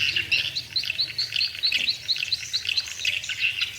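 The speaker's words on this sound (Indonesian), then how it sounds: "burung walet ini sedang mengejar suara tarik yang ada di dalam" Young swiftlets flock around a swiftlet house, giving rapid, repeated high chirps that come in quick overlapping bursts at close range over a low background murmur.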